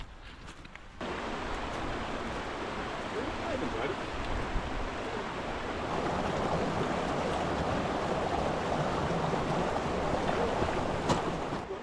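A mountain stream in the Mournes rushes and gurgles steadily close by, a broad continuous wash of water with a faint rustle at the start and no talking over it.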